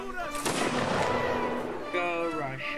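A heavy cannon blast booms and rolls out in the game Mount & Blade: Napoleonic Wars, followed by a second shot, with game music and faint voices running underneath.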